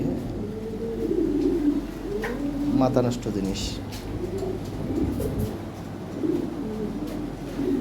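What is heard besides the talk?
pigeons cooing at a pigeon sale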